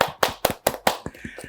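Hands clap at a lively celebrity chat-show introduction: five sharp, evenly spaced claps ring out close by, then a few softer scattered claps trail off.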